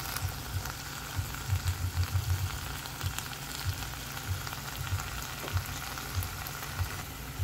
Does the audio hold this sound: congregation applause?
no